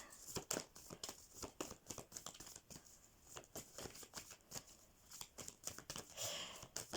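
Tarot cards being shuffled and drawn during a French-language reading, giving a close, busy run of crisp papery flicks and snaps with no voice over them.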